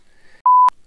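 Radiomaster RC radio transmitter gives a single clean electronic beep lasting about a quarter second, clear and close, preceded by a faint higher tone and quiet room background.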